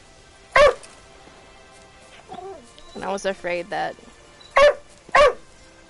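A young dog, not yet two years old, lets out several sharp, loud barks in bursts, with a short run of yips in the middle, while someone speaks briefly between them.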